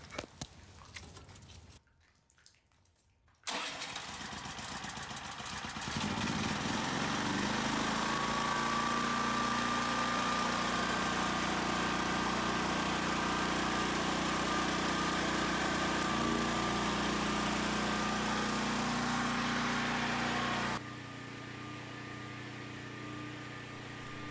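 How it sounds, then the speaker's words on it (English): An emergency home generator runs steadily at a constant loud drone, with a brief quieter stretch and a sharp start near the beginning, then a drop in level near the end. "So all we gotta do is crank it up and get started."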